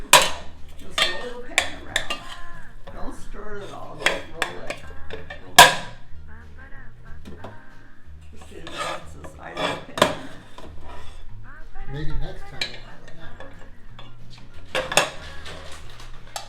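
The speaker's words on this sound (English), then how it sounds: "Just roll the pan around." A metal pan is rolled around on a kitchen stovetop while making cream puff dough, giving irregular clanks, scrapes and rattles at close range amid quieter stretches, with some faint talk.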